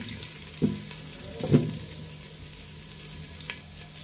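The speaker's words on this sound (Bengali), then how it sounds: "আপনারা আদাটা ব্রাউন কালার হওয়ার আগ পর্যন্ত এভাবে নাড়তেই থাকবেন।" Ginger is stirred and fried in a pan: a soft, low sizzle underlies two distinct scraping stir strokes early on and a fainter one near the end.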